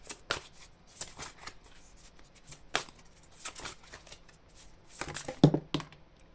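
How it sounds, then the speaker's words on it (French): Tarot cards are shuffled in a series of crisp riffling bursts and soft slaps, close and fairly quiet, with a card drawn near the end. "J'ai envie de tirer une autre carte."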